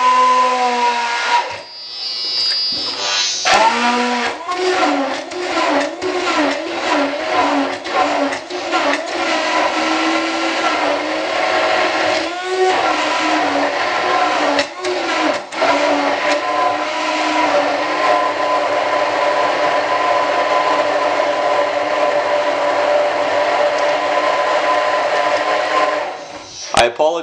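A blender whirs loudly and steadily, grinding hemp seeds with water into thick hemp milk; the motor pitch shifts and stutters in the first seconds, then runs continuously until a brief stop at the end.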